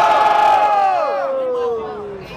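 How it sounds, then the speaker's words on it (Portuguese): Loud, dense crowd cheering and yelling at a Brazilian rap battle, with voices sliding downward as the roar gradually fades toward the end. "Barulho pras rimas do Moita"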